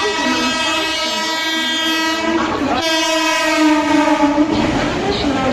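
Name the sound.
Mumbai fast local train arriving at Dombivli station platform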